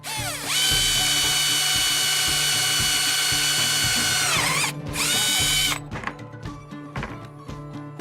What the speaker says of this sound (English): So as long as you don't go too deep with your drill when you're creating the mounting holes, you'll be just fine.